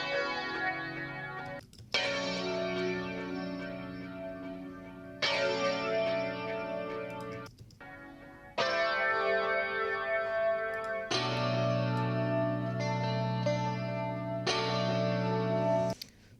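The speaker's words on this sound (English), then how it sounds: "So those are our two guitar tones" Electric guitar chords ring out with heavy chorus and echo effects, alternating between two distinct tones, in sustained, loud strums with brief gaps.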